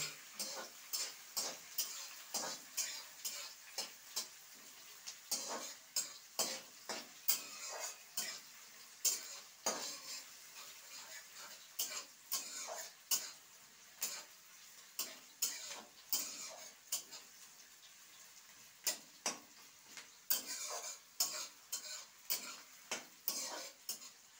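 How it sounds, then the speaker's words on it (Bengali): Chopped onions fried until reddish for a katla fish curry, heard mostly as a long run of quick clicking and scraping spatula strokes against the pan over a faint, quiet sizzle. "প্রথমেই আমি এই পেঁয়াজটা একটু লাল লাল করে ভেজে নেব"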